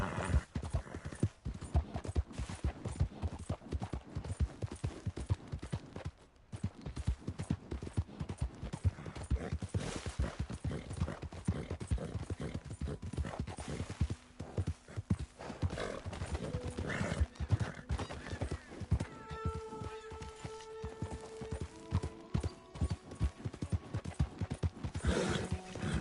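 Horse hooves clip-clop steadily through the open-world Western game Red Dead Redemption 2, a continuous rhythmic trot with an occasional whinny, close and fairly loud over ambient game sound and a few brief background voices.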